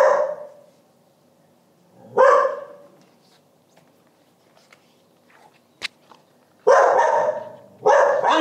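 A dog barks indoors in a few short bursts, with a single bark near the start, one around two seconds in and a pair toward the end. Quiet room noise fills the gaps between them, and there is no talking.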